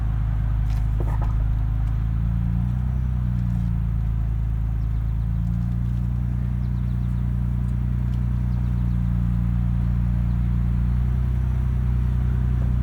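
A 2024 Ford Ranger Raptor climbing a rutted off-road hill with the front diff locked, a loud steady low engine drone heard from inside the cab, with the pitch rising and falling slightly as it climbs.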